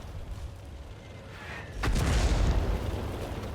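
An artillery shell explodes in World of Tanks, a sudden deep boom with a rumbling tail after a quieter stretch of game ambience and a brief whistling sound.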